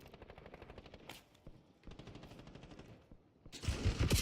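Rapid automatic gunfire in Call of Duty Warzone, rhythmic bursts of shots at moderate distance with short pauses, ending in a louder, closer volley.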